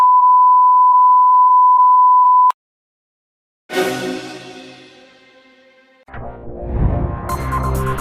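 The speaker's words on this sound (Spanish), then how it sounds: "Parece que es la alarma de alerta sobre bombardeos." A bombing alert alarm, heard during a news broadcast on the Israel–Palestine conflict, sounds as one loud, steady electronic tone lasting a couple of seconds, then cuts to silence before other louder broadband sounds follow.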